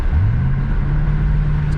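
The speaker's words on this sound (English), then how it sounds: "Get a couple downshifts for you guys." A 2006 Ford Mustang GT with a 4.6 V8 and five-speed manual rumbles loud and close from inside the car, the engine note rising as it downshifts.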